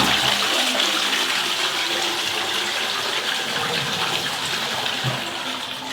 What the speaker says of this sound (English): And let's give her a flush.